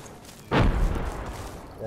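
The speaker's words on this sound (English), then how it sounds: "This sounds like a bomb." A heavy explosion in the Project Reality battlefield game booms suddenly and close, then rumbles and rolls away over the following second.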